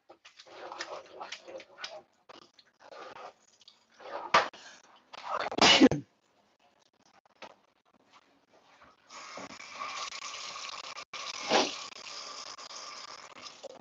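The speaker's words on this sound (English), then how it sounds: "Sorry, guys, I had to sneeze." A single sharp sneeze bursts out loud and close while crockpot ravioli lasagna is being made, amid quieter scattered kitchen noises and a steady hiss later on.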